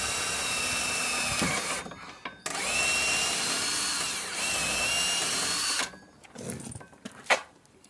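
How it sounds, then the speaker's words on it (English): A power drill whines steadily in two long bursts as it bores into wood for a driveway gate handle, then stops, leaving a few quieter knocks and rustles. "So I'm just drilling."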